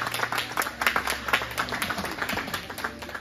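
Hands clapping to celebrate the first windshield fitted at a windshield replacement championship, a small group applauding with brisk, uneven claps throughout, close and fairly loud.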